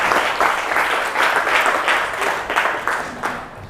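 Classroom applause from a group of students and teacher during an Indonesian language lesson, a steady burst of clapping with pulsing peaks, fairly loud and close, fading slightly toward the end, with no talk over it.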